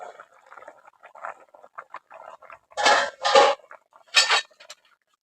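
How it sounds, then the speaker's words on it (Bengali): A lid is lifted off a cooking pot of snakehead fish and taro on the stove, giving a few short, loud metallic scrapes and clinks after quieter kitchen clatter. "এবার আমি ঢাকাটা খুলে নেবো"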